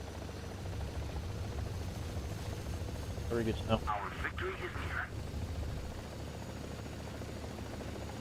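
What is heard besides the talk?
friendly helicopter flying in War Thunder video game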